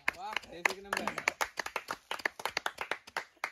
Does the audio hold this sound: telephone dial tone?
no